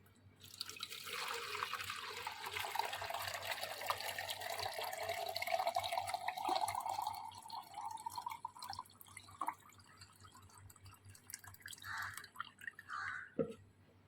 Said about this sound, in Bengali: একটা পাত্র নিয়ে নিয়েছি আর এটাকে আমরা কিন্তু সুন্দর করে কিন্তু ছেঁকে নেব এরমভাবে